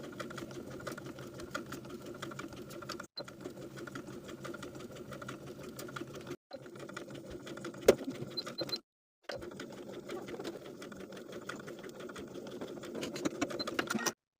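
A sewing machine stitches around a sleeve armhole of a fabric top with a 5/8-inch seam allowance, a steady close whirring run broken by three brief stops.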